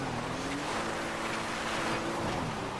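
A boat engine revving in GTA V, a low droning motor hum under a constant wash of water and wind noise, loud and sustained for a few seconds.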